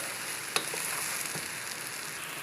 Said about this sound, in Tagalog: Dagdagan natin ng soya sauce